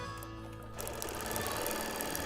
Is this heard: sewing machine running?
yes